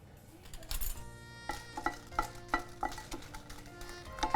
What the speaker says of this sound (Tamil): இந்த மிளகா வறுபடுறதுக்காக கொஞ்சமாக எண்ணெய் போட்டிருக்கேன்.